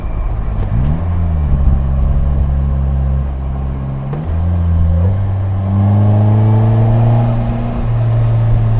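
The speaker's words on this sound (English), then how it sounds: "The exhaust sounds nice. It doesn't sound ricey." The small engine of a 2018 Polaris Slingshot SL three-wheeler revs up and settles several times, its exhaust note climbing and dropping in pitch, loud and close with no talking.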